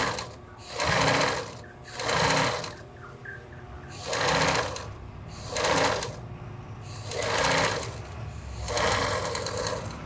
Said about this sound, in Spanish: Por seguridad paso esta costura.